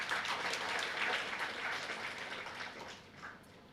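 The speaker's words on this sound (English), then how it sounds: "Applause." Crowd at Loyola Research Day 2024 giving loud, dense applause that swells at first and then gradually fades toward the end.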